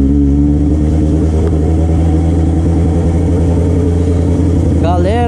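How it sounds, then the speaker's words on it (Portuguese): Motorcycle engine droning loudly and steadily while riding through the town of Nova Campina, São Paulo, a constant close rumble with a brief rising rev at the very end. "desculpa pelo som do barulho da moto"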